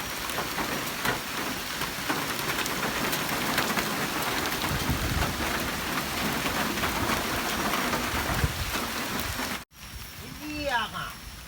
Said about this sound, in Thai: ฝนเริ่มตกแล้วครับ